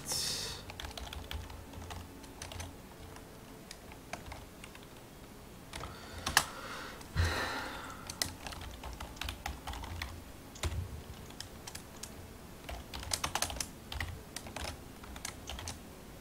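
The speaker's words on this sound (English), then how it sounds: "What am I typing?" Rapid clicking of a computer keyboard under steady typing, close and fairly quiet, with bursts of faster keystrokes and brief pauses and no voices.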